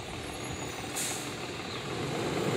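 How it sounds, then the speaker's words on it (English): A trash truck passes on a street, its engine rumble rising steadily with a sharp hiss like an air brake release partway through, heard at moderate distance with no talk. "There's a trash truck coming, and He's going to go by."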